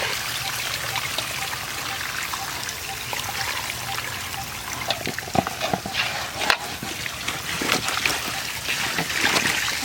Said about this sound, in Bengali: কচুটা ভালো করে ধুয়ে নিই, যা বালি।